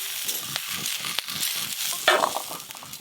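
Fried shukto vegetables tipped into a pan of mustard oil, a close sizzle with rhythmic scraping and stirring and a sharp clatter about two-thirds through, without speech.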